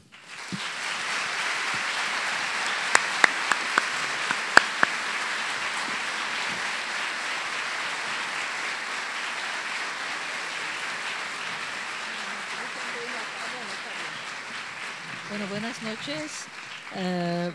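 A crowd at a lecture applauds in a steady, sustained wash of clapping that slowly thins out near the end as a voice begins speaking.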